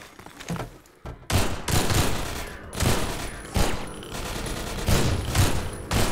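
Rapid gunfire bursts from a first-person shooter, Half-Life 2: Episode 1, loud and repeated in clustered volleys with booming impacts and no pauses of silence.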